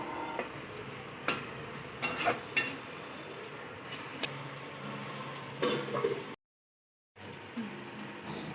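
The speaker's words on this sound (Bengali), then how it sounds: "ঝোল ফুটে গেছে" Fish curry broth with koi fish, black cumin paste and green chillies bubbling at a boil in a pan, a steady rain-like simmer with occasional utensil clinks and a brief cut to silence.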